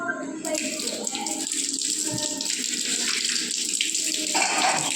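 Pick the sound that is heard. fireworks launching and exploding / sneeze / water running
water running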